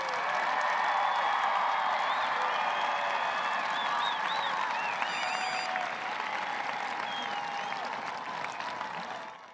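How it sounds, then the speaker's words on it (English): Crowd at a high school graduation ceremony applauds the graduating class, a sustained roar of clapping with some cheers and whistles across a large venue, tapering slightly near the end. "Let's give our Toros one more resounding round of applause."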